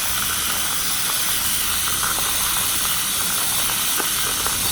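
A Hario coffee grinder turned by a Tamiya planetary gearbox motor, 6 V DC and 7 W, gives a loud, steady mechanical whir with faint ticking gear clicks running throughout, close and uninterrupted.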